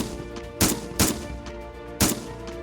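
Gunfire sound effect in a Dust 1947 tabletop wargame battle report, as a ranger squad fires from behind crates in an ammo dump: three sharp, loud shots with the first two close together and the third after a pause, no talk.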